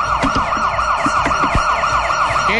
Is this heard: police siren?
yes